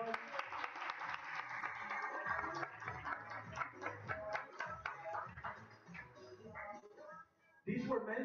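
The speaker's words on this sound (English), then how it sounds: "which I want to give him a round of applause" A crowd gives a round of applause for mentor Sergio Munoz from New Jersey at an evening event, dense clapping running for several seconds before a brief dip and a fresh burst.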